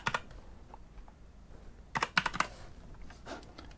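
Keys clack on a computer keyboard at a Windows desktop, a lone tap then a quick cluster of several keystrokes near the middle and a softer trailing press, close and fairly quiet with no talking.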